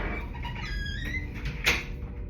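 A door swings shut with a drawn-out rising squeak of its hinges and a soft thud near the end, close and fairly quiet in an indoor room.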